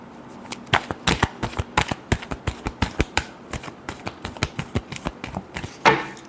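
Tarot cards are shuffled by hand in a quick series of crisp riffling snaps, dozens of sharp taps in uneven rhythm, close up and alone with no talking.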